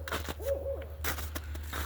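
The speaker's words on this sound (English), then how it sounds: "Oh, hear the owls." Owls hooting at an owl sanctuary on a Lakota farm in western Massachusetts, a few short hoots close together, clear but mid-distance, heard outdoors over a low steady hum.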